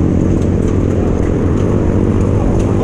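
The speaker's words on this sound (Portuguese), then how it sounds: "Agora os motos aceleraram." Motorcycles accelerating together at the assisted start of a Sense Impact Race marathon mountain bike event, a dense, steady engine roar that stays loud and close throughout with no gaps.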